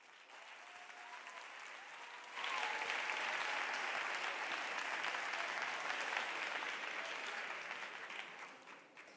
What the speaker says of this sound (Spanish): Recibamos con un aplauso a Madame de Rosa